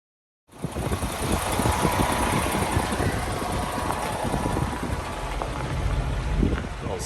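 A semi truck engine runs in the snow on a freeway, starting after a moment of silence and then holding a loud, steady, close rumble.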